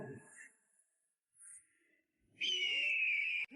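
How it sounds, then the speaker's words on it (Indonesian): A phoenix bird call effect: a shrill, sustained cry lasting about a second rings out loudly near the end, after softer scattered sounds and murmured voices. "Aku seolah mendengar suara burung phoenix."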